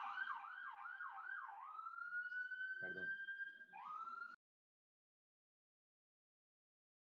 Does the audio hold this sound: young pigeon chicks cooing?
no